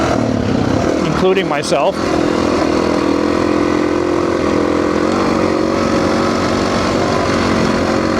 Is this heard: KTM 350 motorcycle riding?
yes